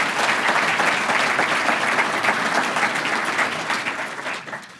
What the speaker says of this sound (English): I think you deserve to give yourselves a round of applause for that.